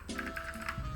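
A computer keyboard is pressed for a Ctrl V paste, giving a couple of quick soft key clicks close by within a second, with no speech.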